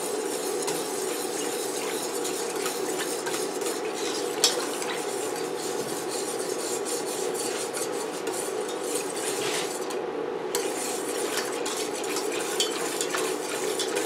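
Homemade eggnog mixture of milk being stirred continuously in a pot while it heats, a steady scraping and swishing of a utensil against the pan with faint clinks, no talking.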